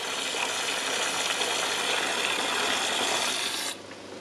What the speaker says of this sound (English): So now the pump is on, and I made a small nozzle to get a good flushing jet.